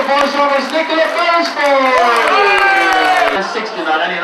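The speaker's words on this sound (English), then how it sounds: "Give her a round of applause." A crowd at a radio station's launch night gives a round of applause for Eleanor Power, loud and sustained, with cheering and shouting voices over the clapping throughout.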